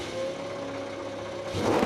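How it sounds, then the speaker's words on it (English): A NASCAR Cup car's engine refires after a stall at Sonoma Raceway, a steady mid-pitched running drone that swells louder near the end as it picks up revs, close and alone. "Luckily, the car refired pretty quickly."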